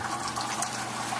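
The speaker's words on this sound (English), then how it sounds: "so it is pouring out now." Heavy rain pouring outside on a rainy day, a dense, steady hiss of falling water that stays even and continuous throughout, with no talking.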